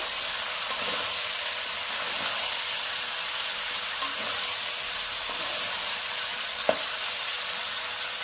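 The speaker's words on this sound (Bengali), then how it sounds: "ভালো করে এটাকে আমি নাড়াবো।" Jujube pickle is stirred in a pan, giving a steady hissing sizzle with occasional soft scrapes and a couple of brief utensil clicks against the pan.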